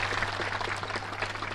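Steady audience applause at a talk on a message of peace in Bali fills the whole moment, a dense even patter with a low constant hum beneath it.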